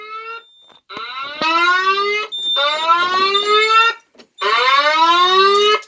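A fire alarm horn strobe sounds in three loud, close bursts of harsh buzzing tone separated by brief gaps, with a thin high whine between bursts.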